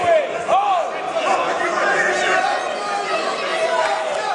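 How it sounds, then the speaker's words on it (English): Dense roar of a boxing crowd at a J N Promotions main event, steady and loud throughout with chatter and shouts layered in, no clear individual voice standing out. "This crowd is absolutely rabid for this main event"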